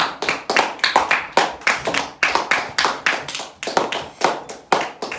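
Students in a classroom applaud, a quick run of sharp, close hand claps in a steady uneven rhythm, loud and dry with no talk over them.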